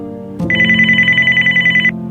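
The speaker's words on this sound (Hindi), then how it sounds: "काफी देर तक घंटी बजती रही" A telephone bell rings loudly and close after a click, a rapid trilling ring held for about a second and a half over a low hum, with no voices.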